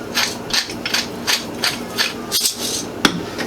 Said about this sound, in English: a couple of grinds of pepper